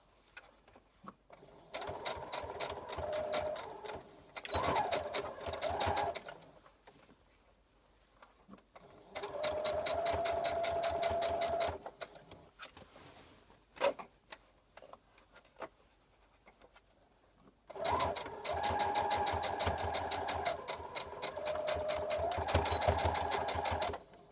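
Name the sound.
sewing machine stitching a dress armhole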